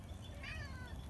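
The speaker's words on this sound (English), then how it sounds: "Are you meowing?" A cat gives a single soft meow, close but quiet, over low background rumble.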